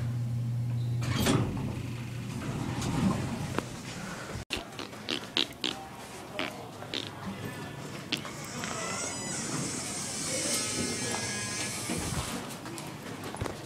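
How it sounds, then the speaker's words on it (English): A LULA elevator's hydraulic motor runs with a steady hum while the door slides open, with clunks and rattles along the way and a rising mechanical whine in the second half, all heard from inside the car. "You want to listen to a hydraulic motor?"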